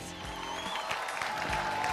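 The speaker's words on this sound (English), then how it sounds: "Round of applause, Malaysia style," A crowd at a televised battle-of-the-bands world final in Malaysia applauds the competing bands, steady dense clapping throughout with music underneath.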